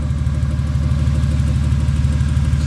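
A Ford Falcon wagon with a freshly swapped AU engine runs steadily at idle, exhaust dumping straight out of the cat with no pipe fitted, giving a loud, close, even throbbing rumble.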